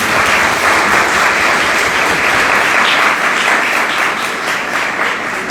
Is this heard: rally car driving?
no